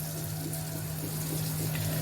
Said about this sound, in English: pour in the water